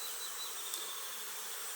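Honey bees buzz steadily at an open beehive, a dense, continuous hum close by with no pauses.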